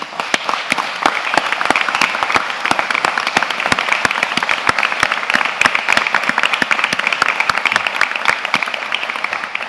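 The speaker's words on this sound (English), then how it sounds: "So, I will ask a round of applause for the team." Loud, close applause from a seminar audience on trauma and extrication rescue, many hands clapping in a dense, crackling stream with sharp individual claps standing out, continuing steadily for nearly ten seconds without speech.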